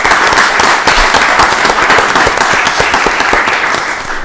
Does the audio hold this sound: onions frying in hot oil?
no